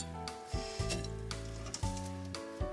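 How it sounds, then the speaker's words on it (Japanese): Broccoli florets are dropped one after another into an unheated yukihira saucepan, giving four or five soft, close thumps over a faint steady background hiss with no talk. "アスパラは小房に分けてボンボンとお鍋に入れていきます。"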